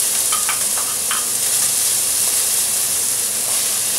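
Peppers sizzling in a hot pan with onion and bacon lardons cooking in their own fat, a continuous close frying hiss with a few light stirring scrapes near the start.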